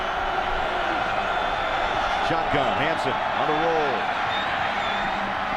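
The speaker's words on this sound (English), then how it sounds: "This crowd is up." A college football stadium crowd at Colorado at Utah in 2011 keeps up a steady, loud roar throughout, with a broadcast commentator talking over it.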